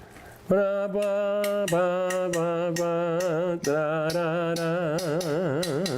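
A lone melodic line carries a march tune in a lilting, syncopated Cuban danzón rhythm with the cinquillo pattern, with sustained wavering notes and no accompaniment.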